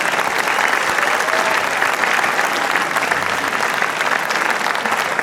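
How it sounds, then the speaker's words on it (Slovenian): A large audience at the Vurberk 2022 festival award ceremony applauds steadily, a dense unbroken wash of clapping that holds at full strength throughout. "kar izvolite, kar močan aplavz"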